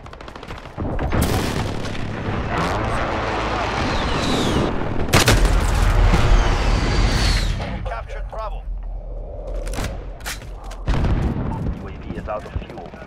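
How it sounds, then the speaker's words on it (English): Call of Duty: Modern Warfare Domination match where an allied precision airstrike booms amid dense automatic gunfire; loud, continuous rattling volleys and heavy blasts fill the scene, easing into scattered shots and sharp explosions near the end. "Allied precision airstrike in."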